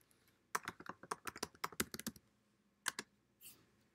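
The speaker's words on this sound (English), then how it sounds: "you can just type text as well." Rapid clacking keystrokes on a CoCo3 computer keyboard, a dense burst of close key presses followed by a pause and a couple of short later bursts, with no talking.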